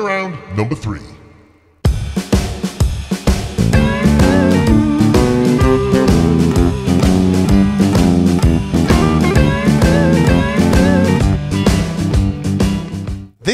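Twelve-bar blues bass turnaround with a half walking, half shuffle feel at 120 BPM, played with a full band groove; a brief spoken bit opens, then steady, loud ensemble playing runs to the end.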